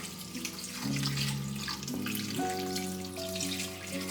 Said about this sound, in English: add some water to my broth